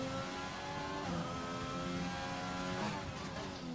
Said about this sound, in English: It sounds like there's another car next to him.